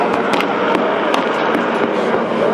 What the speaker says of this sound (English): they're strafing those are machine gun bursts. Those would be 50 caliber machine gun bursts.